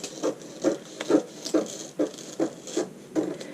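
Scissors cutting through paper at the armhole of a woven blouse pattern, a steady series of about nine crisp snips at a regular rhythm, close and fairly quiet, with no talking.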